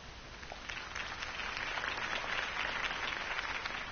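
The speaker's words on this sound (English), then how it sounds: "If only Mr. Wayne, my campaign's largest backer, could have heard that applause" Crowd applause rises from a political campaign rally in a Gotham-set video game, a dense, steady clapping wash that holds evenly for the whole stretch without voices.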